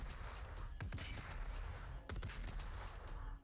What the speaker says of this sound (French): Vous allez faire un swap d'armes du sniper vers le lance-roquette, en maintenant clic gauche pour qu'une roquette sorte directement